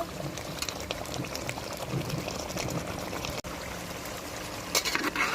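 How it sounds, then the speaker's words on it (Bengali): Goat meat being stirred and fried in a pan, with a constant close bubbling sizzle and occasional scraping throughout. "এখন আমি ভালো করে নেড়ে দেবো। ভালো করে নেড়ে মাংসগুলো কষিয়ে নেব।"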